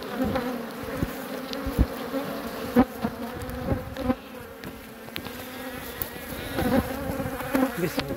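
Honey bees swarm in a crowded oval beehive, their dense, close buzzing droning continuously with individual bees whirring past in brief louder swells.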